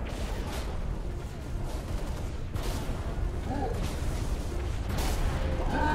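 Assault rifle fire in the Halo Reach game rattles in rapid bursts and booms amid dense combat noise, continuous and fairly loud throughout the stretch.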